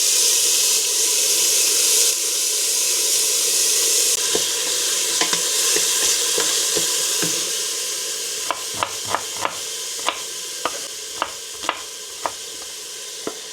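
Garlic sizzles in hot oil in a pan: a steady, loud hiss that softens slightly midway, then sharp spatula taps at a regular beat against the pan over the continuing fry.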